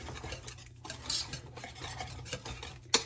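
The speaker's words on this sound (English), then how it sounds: "Stir that in there." A spoon stirs lemon juice into a bowl of fresh, herby homemade ranch dressing, giving soft, continuous scraping and swishing with a light clink of cutlery near the end, close and quiet with no talk.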